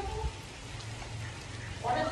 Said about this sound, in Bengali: আর এখানে তো খুবই বৃষ্টি হচ্ছে